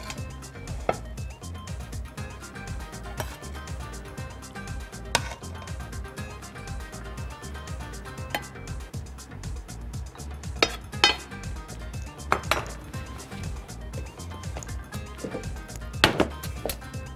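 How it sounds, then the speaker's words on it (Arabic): Fried vermicelli is scooped from a pot, giving repeated metal utensil scrapes, clinks and taps against cookware, close and busy over a steady background. "والشعرية كمان خلصت تعالوا نغرفها مع بعض"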